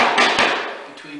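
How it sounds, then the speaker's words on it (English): Two light taps of a mallet on wooden dovetail tails being seated between the pins of a box joint, close and brief, with a soft trailing resonance. "Lightly tap the tails into the open space"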